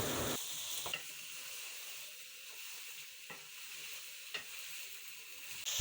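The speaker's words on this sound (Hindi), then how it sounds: "अब हम इसे तब तक फ्राई कर लेंगे जब तक प्याज लाइट ब्राउन ना हो जाए।" Finely chopped onions sizzle with okra in a hot frying pan, giving a steady close hiss with a few soft stirring clinks and scrapes.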